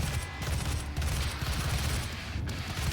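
A plasma gun fires in Doom 2016 as a steady, rapid, pulsing stream of shots, fairly quiet and close, over a low rumbling backdrop, with no talking.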